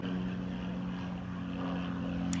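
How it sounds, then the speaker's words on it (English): A plane flying overhead gives a loud, steady droning rumble with a low engine hum that holds constant throughout, alone with no voices. "the plane is almost done flying by"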